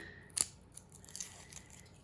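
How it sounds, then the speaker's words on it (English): Papery skin being peeled from a red onion in a kitchen, a sharp crackly tear near the start followed by faint soft rustles, close and quiet with no talking. "and peel off the skin."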